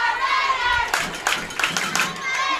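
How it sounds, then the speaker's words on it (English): A large, loud crowd at a high school football game between Bacon County and Pierce County claps and cheers in bursts of sharp applause, mixed with scattered shouting voices. "extremely loud, vocal, large crowd tonight for Bacon County"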